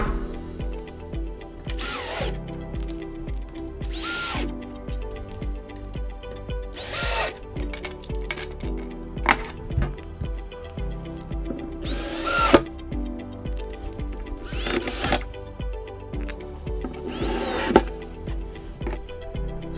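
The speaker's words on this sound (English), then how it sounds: "drop that screw in the center of the foot right there, line that up, and drill it right in" A power drill drives screws into the feet of an aquarium stand, with several short bursts of whirring spaced a couple of seconds apart and quieter handling noise between them.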